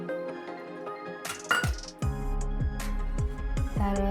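Peanuts for bhel puri poured into a glass bowl, giving sharp, bright clinks and rattles of nuts striking the glass, several distinct hits in quick succession, close and clear.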